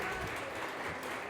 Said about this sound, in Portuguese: aplauda o Senhor Jesus mais forte